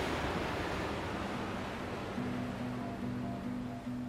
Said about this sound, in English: Ooh, pretty waves.